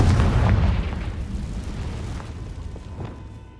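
Confringo fire spell blast in the Hogwarts Legacy video game, a deep booming explosion that rumbles loudly at first and slowly fades with scattered crackles.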